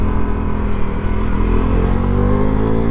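A Bajaj Pulsar NS 400Z motorcycle engine revving hard in first gear, a loud continuous drone with harmonics climbing steadily in pitch, heard close, with no talk.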